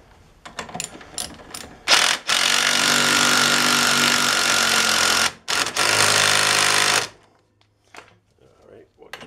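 A ratchet tightens the rear wheel bearing hub of a Polaris Sportsman ATV. Loud, rapid mechanical clicking bursts run for several seconds with a short break between them, framed by quieter tool handling.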